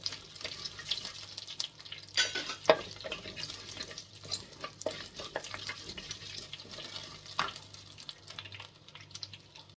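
Cumin and fenugreek seeds frying in hot oil in a pan, a soft continuous sizzle with crackling pops and occasional stirring scrapes, close and fairly quiet, with no talking.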